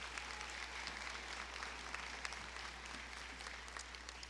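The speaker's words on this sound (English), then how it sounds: "Let's give them another round of applause," A commencement audience claps in a steady, dense round of applause that holds evenly throughout, with no voices rising above it.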